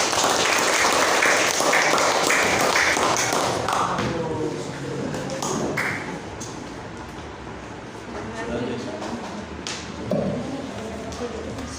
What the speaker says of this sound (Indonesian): Tepuk tangan itu, Tris.